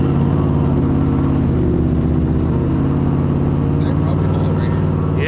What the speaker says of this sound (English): let's go for another test drive, fun run, and see how this runs